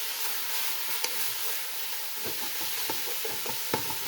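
Red chilli powder, turmeric and salt frying in oil for keema karela, giving a soft continuous sizzle broken by light scraping stirs from a spoon in the pan.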